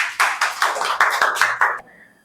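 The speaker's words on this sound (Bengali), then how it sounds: "ওর জন্য একটা তালি হয়ে যাক।" Children in a classroom clapping for a classmate in about eight quick, sharp, evenly spaced claps, close and distinct, ending abruptly into near silence.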